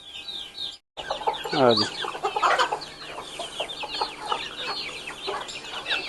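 Pakistani Aseel Mushka crossed with Japanese Shamo chickens cluck and call close by, with a rising crow-like cry early on and a brief spoken phrase over the steady flock chatter.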